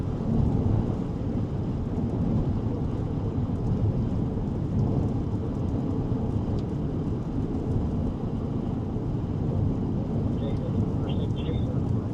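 Rain and wind roar steadily during a Colorado storm chase, a dense, constant wash of noise with rumbling undertones, heard close throughout with a voice talking over it.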